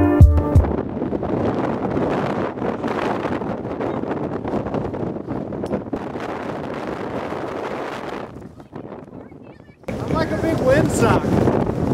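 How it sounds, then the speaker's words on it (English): Strong, continuous wind buffets the microphone atop the cliffs of Étretat in Normandy, a loud roaring rush that dips briefly before surging again, with voices mixed in. "the wind is so strong up there, you can't even walk"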